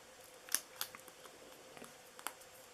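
Small scissors make a few quick, light snips while cutting out a word for a handmade card with an acetate technique, as sparse, faint clicks in an otherwise quiet room.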